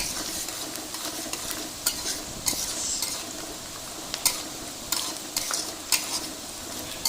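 Cinnamon and bay leaves frying with onions in a pan for homemade Old Dhaka-style Haji biryani, a steady close sizzle broken by repeated scraping stirs of a utensil, with no voices.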